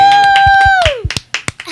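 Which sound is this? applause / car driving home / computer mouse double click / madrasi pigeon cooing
applause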